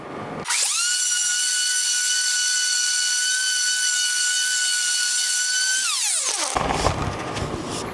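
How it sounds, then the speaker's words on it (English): An orbital sander scuffs the wooden surface of a small piece of furniture. It starts abruptly, holds a steady high-pitched whine with broadband hiss for about five seconds, then winds down as the pitch drops. Nothing is said. "because this is an orbital, it's just going to scuff the surface and remove some of this light scratching"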